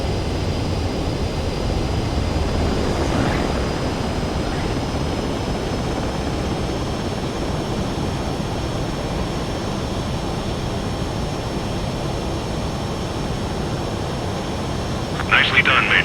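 A fighter jet lands in the video game Ace Combat 7: a steady, loud engine roar holds throughout at an even level, ending in a short, sharp burst of noise.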